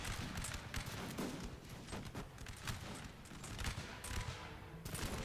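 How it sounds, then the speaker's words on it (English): Dense, irregular musket volleys crackle from infantry lines in a Napoleon: Total War battle, with overlapping shots rolling continuously and loudly throughout, with no voices. "the irregular troops, every line is firing"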